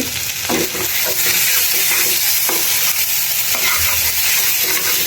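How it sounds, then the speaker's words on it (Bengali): Steady, loud sizzle of tilapia fish curry with garlic frying in a pan, with scraping stirs cutting through now and then; no voices. "এটা একটু ভাজা ভাজা হচ্ছে"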